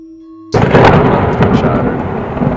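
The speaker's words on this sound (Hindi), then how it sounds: "बिजली की गड़गड़ाहट।" A thunder sound effect bursts in with a sudden loud crack after a brief quiet moment, then rolls on as a heavy, sustained rumble that slowly fades.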